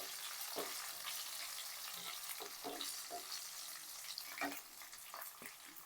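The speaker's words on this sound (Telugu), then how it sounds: "చూడండి కొంచెము గోల్డెన్ కలర్ వచ్చేంత వరకు వేపుకోవాలి." A pan of tempering for Rayalaseema-style tamarind-leaf dal fries until golden, a soft, quiet hiss with a few scattered spatters and stirring knocks, close but low in level.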